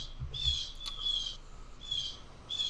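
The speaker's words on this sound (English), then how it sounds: "Somebody's got some birds in their window." Birds calling near a window, repeated high bright chirps in short bursts about once per second, fairly faint over a quiet background with soft low thumps.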